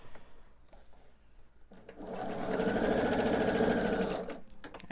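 A sewing machine stitches quilt pieces for a pillowcase, starting up after a quiet moment and running steadily for a couple of seconds with a fast, even whirring clatter, close and fairly soft, then stopping.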